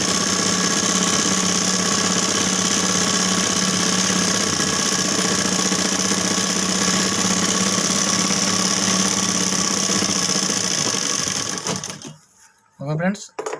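Sewing machine running a double stitch on a blouse sleeve, a loud continuous rapid whirring rattle for about eleven seconds before stopping, with a voice briefly heard at the end.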